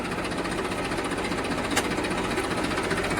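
A Massey Ferguson 1035 tractor engine runs steadily with its hydraulics working, a continuous close, loud, knocking diesel rumble with no break.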